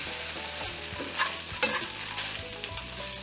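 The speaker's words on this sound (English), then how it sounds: "cook that flour just a little bit, so it's not just raw flour" Flour stirs and cooks in a hot pan for cheesesteak sauce, a close crackling sizzle with spoon scrapes and a couple of brief clinks.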